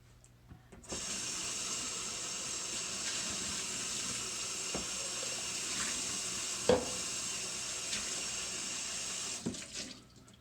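Tap water runs steadily into a sink for about nine seconds while something is rinsed under it, with a few soft clunks of items moving in the basin.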